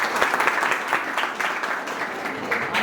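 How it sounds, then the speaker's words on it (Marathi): Audience at a school batch get-together reunion claps for the event organisers, a moderate, steady round of applause from a mid-sized crowd heard at some distance, continuing throughout without speech. "त्यांच्यासाठी एकदा तरी टाळ्या वाजवता येईल"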